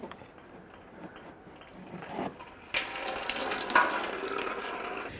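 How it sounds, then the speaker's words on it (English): Leftover coolant drains from a Jeep Grand Cherokee 4.7L V8 radiator into a catch can, a faint trickle that swells into a steadier, louder splashing stream partway through. "Catch any more residual coolant that should come out of this radiator"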